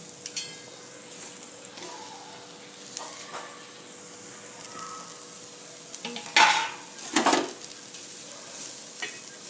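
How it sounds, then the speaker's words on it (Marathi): Onion frying in a pan for a cowpea masala curry sizzles with a soft, steady hiss, broken near the end by a couple of louder bursts of stirring and crackle. "आता काढून घेते कांदा टाकते भाजायला"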